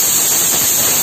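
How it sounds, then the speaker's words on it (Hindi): A pressure cooker vents steam while green pea and potato tahri cooks on a gas stove, giving a steady, loud, unbroken hiss. "कुकर में हमारे 3 सीटी आ चुकी है।"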